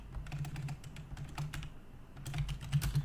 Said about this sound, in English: you can type in the command shutdown